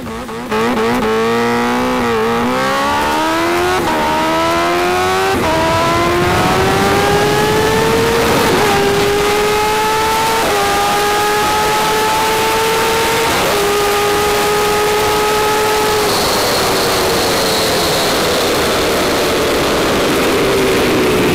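A supercharged Kawasaki H2R motorcycle accelerating flat out on a half-mile airport circuit, its engine screaming loud and close as it climbs through the gears, each upshift dropping the pitch briefly before the howl rises again, with heavy wind roar throughout.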